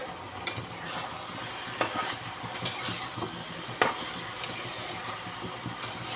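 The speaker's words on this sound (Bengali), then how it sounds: "আবার সবজিটাকে নাড়াচাড়া করে দিচ্ছি" Vegetables stirred in a kadai, a low sizzle of frying under scraping and sharp metal clinks of the spoon against the pan, close and moderately quiet.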